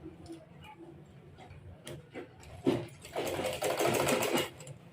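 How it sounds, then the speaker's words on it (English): Sewing machine stitching the cups of a cupped corset blouse with a basque waistline, its motor whirring loud and steady in the second half after quieter handling and brief taps. "I'll sew this part to this part."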